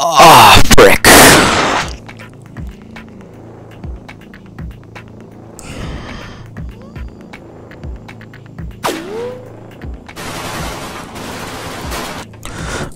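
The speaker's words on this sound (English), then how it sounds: "Alright, don't worry about the gunshots." Loud bursts of video game gunfire crack at the start, then scattered shots and electronic hum continue under a talking voice.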